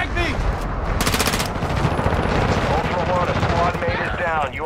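Loud, dense automatic gunfire fills the frame in a Call of Duty MW2 DMZ match, continuous rapid bursts of shots with voices and game radio chatter mixed in.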